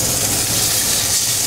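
Tuna steaks searing in a hot pan slicked with olive oil, a loud steady sizzle and hiss that runs unbroken and close throughout.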